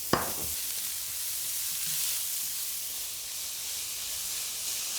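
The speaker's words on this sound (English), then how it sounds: "Nice hot pan, you can hear that sizzle." Smoky bacon and red onions sizzle in a hot pan with a loud, steady hiss and crackle that carries on throughout, opening with a brief sharp clink.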